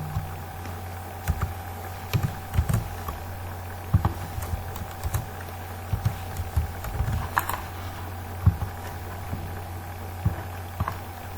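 Irregular clacking of keys as code is typed on a computer keyboard during Java programming, with bursts of keystrokes over a steady low background hum and no talking.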